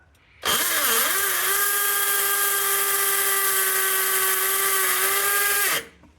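A Bosch GSB 18V-21 cordless hammer drill whines loudly and steadily for about five seconds at a constant high pitch, starting abruptly and cutting off sharply.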